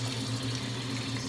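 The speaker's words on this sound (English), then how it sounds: "So I'm just gonna run a little water." Tap water runs steadily from a faucet into a sink for a skincare wash, a continuous close splashing hiss throughout with a low hum beneath and no talking.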